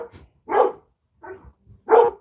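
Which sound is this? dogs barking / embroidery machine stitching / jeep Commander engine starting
dogs barking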